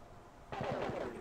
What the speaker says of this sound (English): let's go ahead and start some shooting